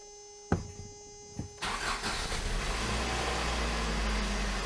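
A car engine cranks briefly after a couple of clicks, catches and settles into a steady idle, heard close up just after an oil change.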